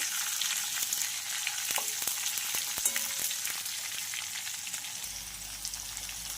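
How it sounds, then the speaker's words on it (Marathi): Stuffed masala brinjals sauté in a hot pan with a steady, close sizzle that runs unbroken throughout, with faint scrapes and no voices. "इथं सगळी वांगी टाकून झालेली आहेत छानपैकी याला असं परतून घ्यायचं आहे आपल्याला"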